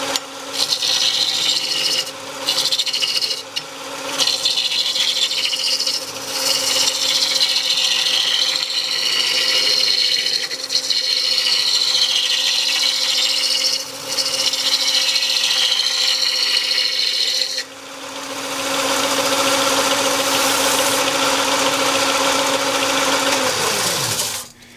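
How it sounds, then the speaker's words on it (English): A spindle roughing gouge cutting a wood blank on a lathe that is not yet round, giving a loud, steady scraping rasp with a rhythmic chattering vibration over the motor's hum, then a smoother, brighter cut near the end. "When you hear that vibrating, that means it's not perfectly round yet."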